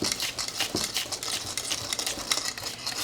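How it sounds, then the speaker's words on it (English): A whisk beats pie filling ingredients in a large mixing bowl, rapid clattering strokes against the bowl, fairly quiet and close, continuing without talk. "So I'm just doing this with a whisk"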